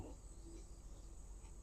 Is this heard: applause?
no